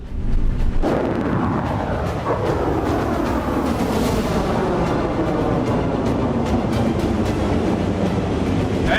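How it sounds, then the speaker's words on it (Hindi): A Russian submarine in the Sea of Japan launches a Kalibr cruise missile, and a sudden loud roaring blast begins about a second in and continues as a sustained, rumbling rush to the end, with no talk. "इस सबमरीन ने जापान सागर से एक क्रूज कैलिबर मिसाइल दागकर अपने इरादे भी जाहिर कर दिए।"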